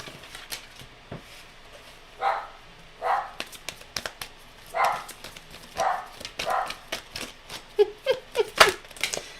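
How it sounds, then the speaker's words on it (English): Dogs bark outdoors, somewhat distant, in a string of short irregular barks spread over several seconds, with a few quieter clicks and rustles between them. "Dogs are barking."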